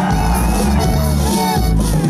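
A crowd at a jaripeo rodeo in Passaic, New Jersey lets out a loud Mexican grito, with dense, close whooping and yelling through the whole burst.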